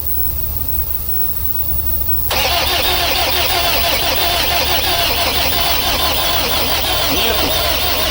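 A car engine cranks during a compression test on the first cylinder, its owner chasing a knock from an injector or the engine. Quiet hiss at first, then a loud, steady cranking drone begins partway through and continues to the end.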